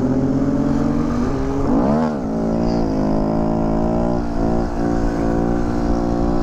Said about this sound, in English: Third gear is pulling up easy after the rebuild